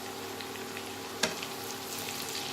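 Chopped capsicum and onion stir-frying in a pan, a soft continuous sizzle with a steady low hum beneath and a single sharp scrape or clack partway through.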